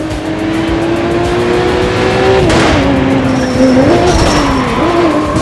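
Race cars roar through a motorsports event in The Crew 2 video game, shown in E3 2017 gameplay. Loud, close engines climb and shift in pitch, and tires squeal and skid through the run.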